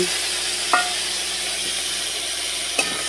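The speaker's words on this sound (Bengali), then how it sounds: "আমি পেস্ট আদা রসুনটা যে বেঁধেছিলাম এটা দিয়ে দিলাম" Ginger-garlic paste sizzles in hot oil with bay leaf and five-spice, a constant close hiss broken by two brief scraping stirs of the spoon against the pan.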